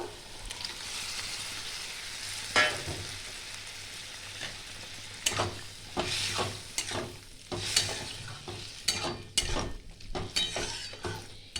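Drumsticks and potatoes are stirred into frying poppy seed paste in a pan, giving soft sizzling beneath a series of scraping spoon strokes that come in irregular bursts, fairly quiet and close.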